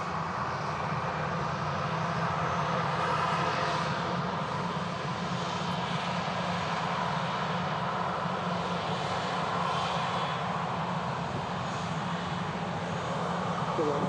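A Saudia Boeing 787 in a special livery arrives at Manchester Airport, its engines giving a steady, broad roar that holds level and fairly loud for the whole stretch, with no break or sharp change.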